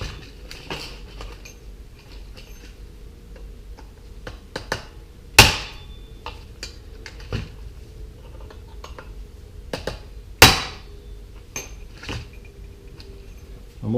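Sharp metallic hammer strikes ring out irregularly while removing the clutch from a small four-stroke engine, two especially loud clanks standing out amid quieter taps and clinks in a fairly quiet space.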